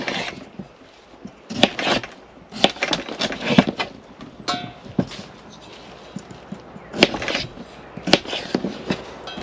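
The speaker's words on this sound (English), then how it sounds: "Just going to cut these potatoes into small bits," Sharp knife chops through potatoes against a board at a woodland campsite, irregular clusters of quick cuts with pauses between, close and crisp.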